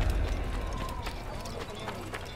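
Horse hooves clip-clop steadily in Assassin's Creed, a busy run of close, even hoofbeats over a dense, constant game background, with no talk.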